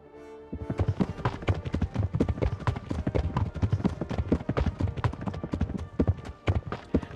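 Horse hooves clip-clop steadily in a video game, a brisk repeated rhythm of close, fairly loud hoof strikes that carries on through the whole stretch without any speech over it.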